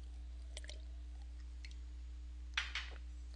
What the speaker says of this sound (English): let me sip some water here